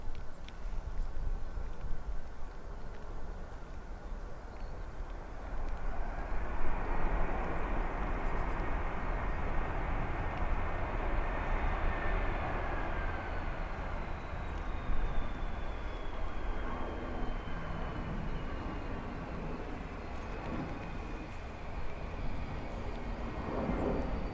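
A heavy airliner arriving at Dublin Airport on a Sunday morning, its broad jet roar swelling and lingering for many seconds at steady, moderate loudness outdoors with wind.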